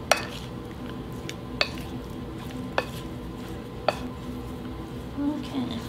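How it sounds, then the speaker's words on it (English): Cornstarch-coated food stirred in a pan from a meal kit, with a few sharp utensil clacks against the pan over a steady faint kitchen background, and a soft scrape near the end. "Stir to coat."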